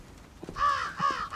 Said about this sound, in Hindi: ये कौवे आवाज़ करेंगे।